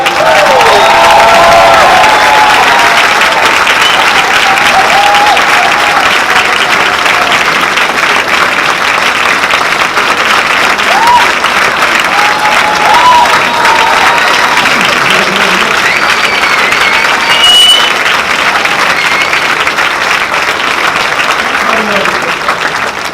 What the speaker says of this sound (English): Not that I was fishing for applause there.